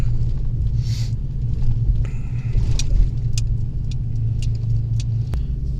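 A family hauler truck, its steering shaft newly replaced, drives straight along a smooth, flat neighborhood road, heard from inside as a steady low engine and road rumble with faint rattles and clicks.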